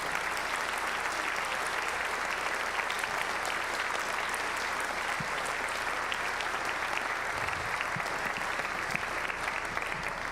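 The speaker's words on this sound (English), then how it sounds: "So I would like for you to thank, with a round of applause, all of our band patrons." An audience at a school symphonic band and wind ensemble concert gives sustained applause, steady and even for the full length, heard from a distance with faint crowd murmur beneath it.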